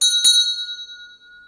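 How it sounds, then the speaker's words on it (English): A small percussion bell is struck once, ringing out clear and bright before fading slowly into silence over a second and a half, close and alone. "so a little bell"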